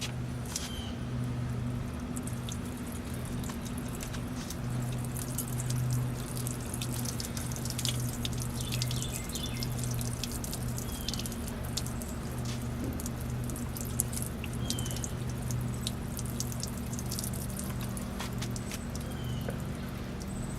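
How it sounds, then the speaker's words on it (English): Water runs steadily over a car headlight being rinsed after a toothpaste polish, a continuous close splashing and dripping with a faint low hum underneath and no talk. "we're going to try and rinse this off here now"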